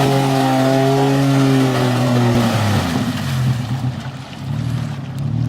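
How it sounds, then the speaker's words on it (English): Supercharged off-road vehicle engine on a muddy trail, a loud close drone with a steady whine that drops in pitch and rumbles as the vehicle eases off, no talking. "A supercharger. That sounds nice, huh?"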